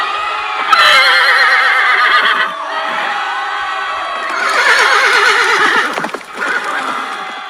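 A horse neighs loudly and repeatedly as an audiobook sound effect for a historical battle scene, with clip-clopping hooves and a faint crowd shout beneath the whinnies.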